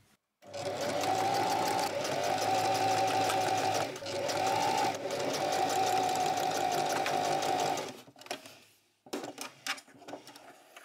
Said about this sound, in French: on va venir coudre avec un point droit tout le long jusqu'à ce qu'on arrive là et on fermera la couture